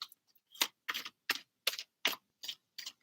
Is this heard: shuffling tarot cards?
yes